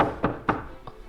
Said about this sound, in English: Then the detectives knock at the door.